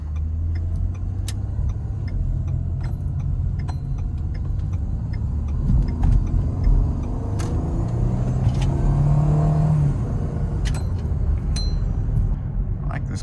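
A 2011 car with a freshly replaced electric power steering rack and pinion drives through a neighborhood, its steady road and engine rumble continuous throughout, with faint light clicks and ticks from the cabin.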